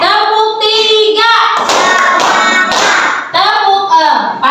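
Rhythmic hand claps sound in a group pattern in a school classroom as voices chant a counting clap game loudly alongside them.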